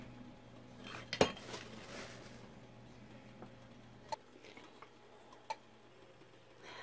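A pot of melted butters and oils for a coconut-oil pain relief balm being mixed with a utensil: one sharp clink, then a few faint scattered taps against a quiet background, with no talking.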